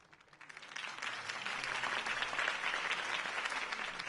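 Crowd applause from the video game Batman: The Telltale Series swells up from quiet and holds as a dense, steady wash of clapping for several seconds.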